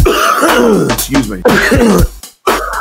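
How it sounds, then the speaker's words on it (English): A man with a cold coughs and clears his throat several times in quick, rough bursts, close to the mic, and says a brief word between the bursts. "put all his coughs together for you in a little bit of an entertaining way"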